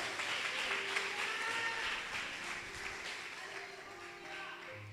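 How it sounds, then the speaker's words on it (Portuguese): Applause from a congregation at an evangelical church service, steady broadband clapping filling the whole stretch with faint tonal music or voices underneath. "aplauda Ele nessa noite aí"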